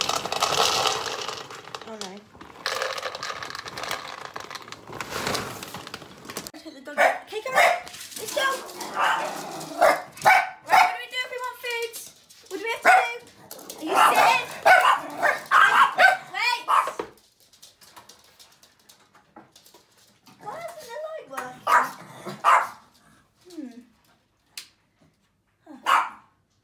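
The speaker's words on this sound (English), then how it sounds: "Now the doggies." Dogs barking and yipping indoors on a snow day, with repeated bursts of barks and some whimpering mixed under people talking and chatter throughout.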